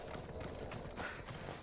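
Horse hooves in the video game Assassin's Creed Odyssey, a rhythmic clip-clop of a horse running closer, faint and mixed with game ambience, with a hint of a whinny.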